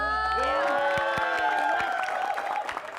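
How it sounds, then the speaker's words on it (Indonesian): Studio audience on an Indonesian TV show clapping and cheering, a steady loud crowd roar with whoops and overlapping voices throughout, under a singer's sustained tones. "kasih tepuk tangan yang menonton"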